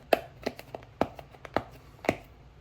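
Fingertips picking and scratching at tape sealing a box for a DJI Mic, a handful of sharp close taps and clicks at irregular intervals, fairly quiet, with no talk.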